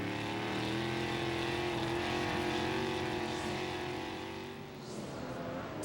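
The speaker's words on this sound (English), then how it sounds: "They're smoking the tires, actually busting them loose coming off the corner." USAC Silver Crown race cars with Chevy power roar through a turn at the Hoosier Hundred, tires breaking loose, a loud sustained engine drone with a shifting pitch and some tire hiss, close and continuous.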